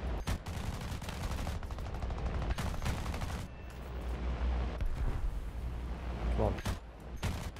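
Rapid machine-gun bursts from fighter aircraft guns in War Thunder roar continuously over a steady engine drone, with short pauses between volleys, while a voice briefly speaks over the din.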